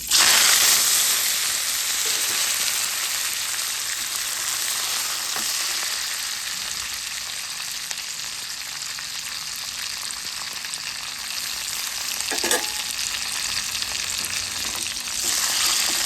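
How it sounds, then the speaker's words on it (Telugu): Tempering spices sizzling in hot oil for an Andhra-style moong dal and raw mango dish, a loud, bright hiss that starts sharply and then settles into a steady crackle, with a few stirring clinks and no talking. "పోపులో వేస్తున్నానండి."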